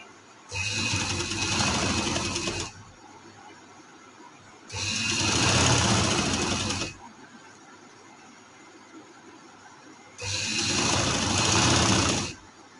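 A sewing machine stitching a ladies' pant trouser runs in three steady bursts of about two seconds each, loud and close, with quiet pauses between runs and no talking.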